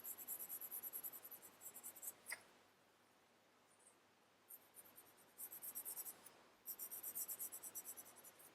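Pencil scratching across paper while shading a Zentangle tile, in rapid rhythmic bursts of strokes with short pauses between them, close and fairly quiet, with no talking.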